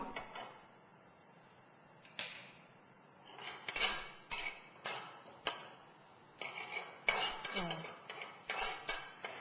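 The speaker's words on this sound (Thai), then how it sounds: "ผัดกระเทียมเจียวให้หอม" Fried garlic stirred in a pan for Thai rad na, heard as repeated scraping and clinking of a utensil against the pan in quick bursts, close and fairly quiet.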